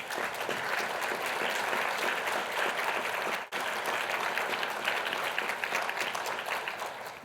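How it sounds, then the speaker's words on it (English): An audience at an international LGMD conference applauding, steady dense clapping from many hands that runs for several seconds and dips briefly midway. "If y'all would give them a round of applause."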